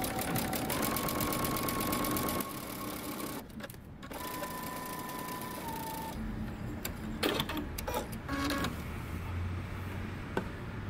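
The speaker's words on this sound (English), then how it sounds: "Now you're going to go to the machine and we're going to stitch using 5/8 of an inch seam allowance." A sewing machine stitches a jumpsuit side seam at a 5/8-inch seam allowance, whirring in close, steady runs broken by short pauses and mechanical clicks.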